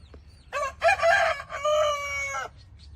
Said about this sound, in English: And our rooster crows.